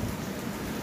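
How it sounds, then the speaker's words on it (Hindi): Heavy rain falls in a dense, steady hiss, loud and continuous with no voices for the short moment. "पिछले चार घंटे से बारिश पड़ रही है ना आज।"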